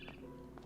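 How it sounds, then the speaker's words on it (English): A barn swallow in the video game What Remains of Edith Finch gives two brief chirps, one near the start and one near the end, faint over a low background hum. "Then I heard chirping outside my window."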